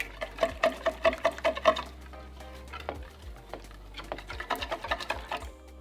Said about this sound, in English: I'm just gonna mix that thoroughly